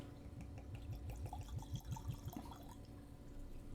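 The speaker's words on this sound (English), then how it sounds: "Let's go ahead and pour a little bit into the glass." Tequila glugs from a bottle into a glass in a quick series of rising gurgles over about two seconds, quiet and close, then settles into a faint background hum.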